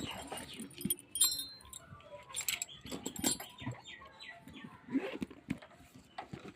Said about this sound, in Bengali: দোকানের চাবিটা রাখছি